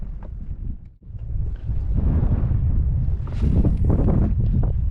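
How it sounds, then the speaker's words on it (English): Strong, cold wind buffets the microphone during inshore kayak fishing on open water, a steady low roar that surges louder partway through, with no talking. "Oh, this wind is cold, man."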